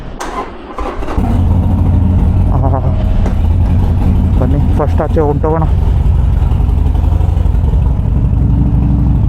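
A Harley-Davidson Roadster 1200 motorcycle engine catches and settles into a loud, steady idle close by, with a person talking over it.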